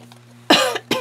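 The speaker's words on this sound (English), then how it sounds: "Sorry if I'm coughing." A person with asthma coughs twice, close and loud, during a glue-and-craft project, the two harsh bursts separated by a short pause.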